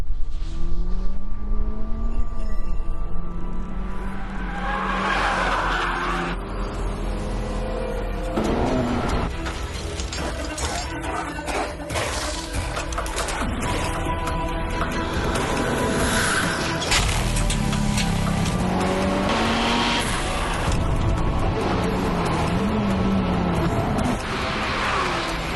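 A 2023 Honda Civic Type R hot hatch is driven on a race track, its engine loud and close with rising and falling revs through gear changes and occasional tire squeal, continuous for the whole stretch.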